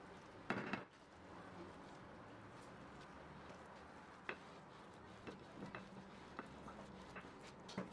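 Chopped pistachios and ground cinnamon stirred with a spoon in a plate while making cookies, giving a few scattered clinks and scrapes of metal on the dish over a quiet room background, with a louder clatter near the start.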